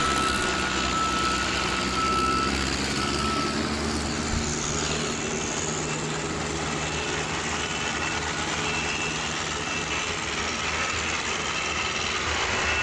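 A GMC super stock truck hauling a pull sled at a truck pull event in Madera, California, a loud, sustained engine roar that stays heavy and unbroken throughout, with crowd and arena noise mixed in.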